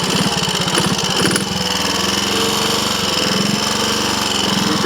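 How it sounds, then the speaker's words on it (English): A Triumph Tiger Cub motorcycle engine on a road test labours and struggles, its rough, rapid firing pulses loud and close throughout, with a brief dip in rhythm early on and no talking. "I don't want to damage the engine."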